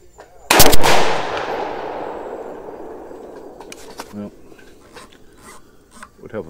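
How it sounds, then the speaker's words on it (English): A single sharp 6mm ARC rifle shot, fired without a muzzle brake using Hornady Black ammunition on an outdoor range, cracks loudly and trails off into a long rolling echo, followed by faint clicks and handling noises. "I know what this thing is shooting with the muzzle brake, with the Hornady Black, but I want to test it without the brake on it"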